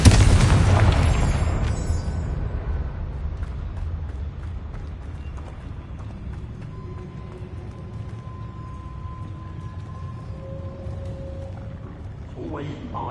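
A Confringo spell detonates with a sharp, loud blast in Hogwarts Legacy, followed by a long rumbling decay and ambient game sounds, with some talk in the background.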